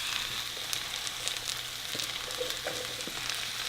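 Red cabbage and red onions sizzle steadily in a pan, a continuous close crackling hiss with small pops and no talking.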